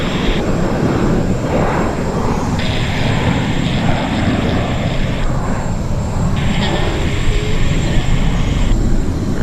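A passenger aircraft landing at Vancouver airport gives a steady, loud roar of engine and air noise that fills the whole stretch without a break, with a faint voice talking underneath.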